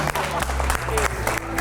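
An audience clapping at a live stage show, a dense burst of applause under a speaker's voice, loud and near.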